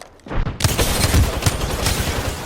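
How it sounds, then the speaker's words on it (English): Dense sustained gunfire from enemy shooters in a video game erupts after a brief quiet start and continues as a loud, steady barrage of rapid overlapping shots. "Some plonkers shooting at me."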